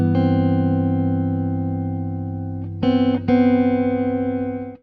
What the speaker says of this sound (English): the interval between the root and the 7th in a major 7th chord is pretty tense